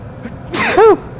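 A single sharp sneeze, close and loud, with a brief inhale before the burst.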